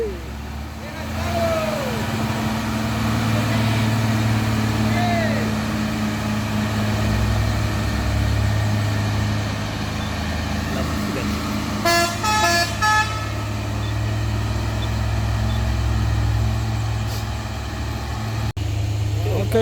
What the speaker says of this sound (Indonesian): ini dia truk melati yang sudah siap-siap nanjak di Kedabuhan